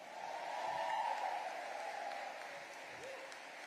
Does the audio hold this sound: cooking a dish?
no